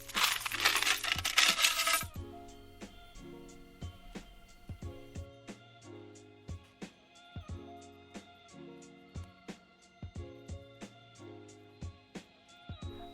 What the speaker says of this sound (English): I thought I would go ahead and count the coins